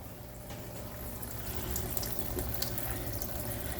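Water pours steadily into a DIY Greenstalk hydroponic tower garden, a continuous close rushing and splashing fill that grows slightly louder as it goes, with no voices.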